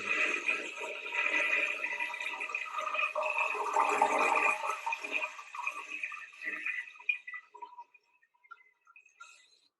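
A toilet flushes in a loud, continuous rush of water that swirls and gurgles for several seconds, then thins out into scattered trickles and drips as the bowl refills.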